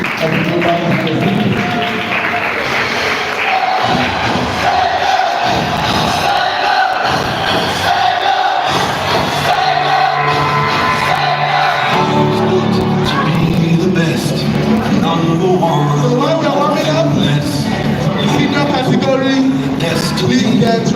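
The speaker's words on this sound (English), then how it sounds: "A round of applause for them" Audience applause and cheering at an oral maths competition final, a loud continuous crowd roar with clapping and shouts that holds steady throughout, with voices mixed in.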